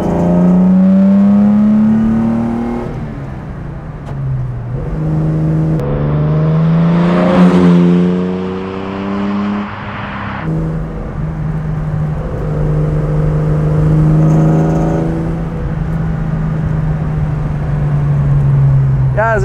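A 1966 Jaguar E-Type 3.8 Coupé, a restored classic sports car, pulls away hard with a loud, rising engine note that climbs and shifts through several gears, heard from inside the car while a person talks over it.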